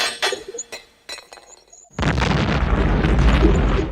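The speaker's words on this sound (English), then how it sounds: "Batman heads to Access Chemicals to blow them sky high" A few sharp clinks and pops give way to a sudden, loud explosion as a chemical plant is blown up in a Batman film, roaring on as a dense, sustained blast of rumbling noise.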